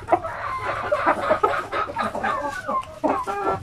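Bisaya native chickens crossed with Peruvian gamefowl cluck continuously in a dense, overlapping chorus, several birds calling close by at moderate loudness.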